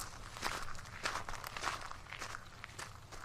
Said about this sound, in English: The sound of my heavy breathing and footsteps was the only noise I heard while I walked.